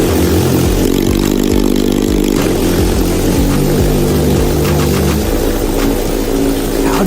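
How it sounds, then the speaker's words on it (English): An abandoned, battered Kawasaki motorcycle engine being restored turns over and runs in a loud, continuous rumble with repeated revving pulses, close up and with no talking. "Now I'm going to try starting it again."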